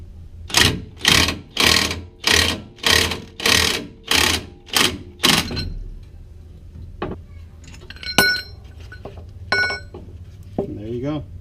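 Ball joint being pressed out of a Mazda B4000 truck's lower control arm, heard as eight rapid rhythmic mechanical bursts, near and loud, followed by scattered metallic clinks and taps.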